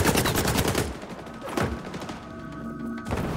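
Rapid automatic gunfire in the online shooter XDefiant rattles in a dense burst, then single heavy shots thud out at intervals over a steady game background.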